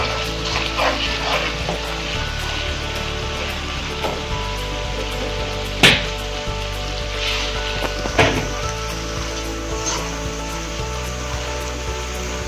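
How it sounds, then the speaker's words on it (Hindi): Potatoes and spices frying in a pan for aloo methi, with red chilli and salt: a steady dense sizzle all the way through, broken by a couple of louder clanks of a spoon against the pan. "अच्छे से भून लें।"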